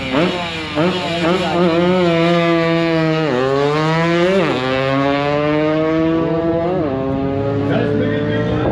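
Race cars at the Valley Run drag event accelerate hard in a loud, close engine roar, running up through several gear shifts with clear pitch drops between rising whines, while a voice talks over it.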